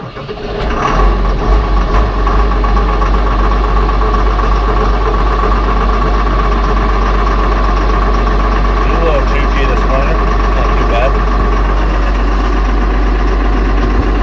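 A Case Puma 165 diesel tractor engine catches on a cold winter day and settles into a loud, steady, rumbling idle, with someone talking intermittently over the constant drone.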